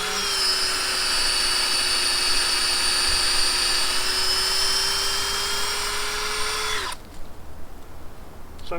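A power drill bores a tap hole into a red maple tree outdoors, a loud steady high whine holding for about seven seconds before cutting off abruptly, leaving quiet background.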